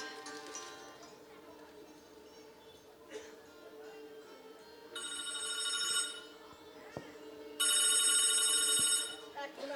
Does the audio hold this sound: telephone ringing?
yes